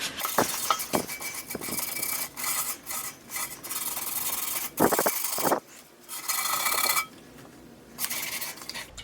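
A toilet bowl cleaned with vinegar is scrubbed hard with a brush, giving a loud, close, harsh rasping that runs in long bursts broken by short pauses and a few brief knocks.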